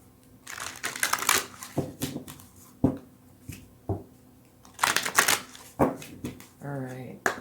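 A deck of oracle cards is shuffled and riffled in bursts of crisp flapping and slapping close by, while a voice talks in between.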